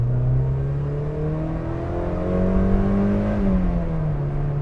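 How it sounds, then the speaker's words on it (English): A Mazda NC Miata's engine revs up strongly, its pitch climbing steadily and then dropping off near the end, loud and close with a smooth, buzzy note and no talking over it. "And it loves to rev so much."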